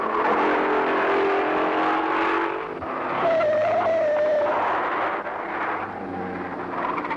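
Race cars at the 1966 Gallaher 500 at Bathurst, Studebakers, Valiants and a Triumph 2000 among them, with engines droning and whining past at a distance, one rising tone in the middle, rough and lo-fi.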